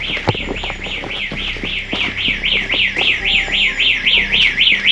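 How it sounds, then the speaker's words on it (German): An alarm wails inside an abandoned hospital: a loud, rapidly warbling electronic siren that repeats steadily and stays close, with some clatter and rumble underneath. "Alarm."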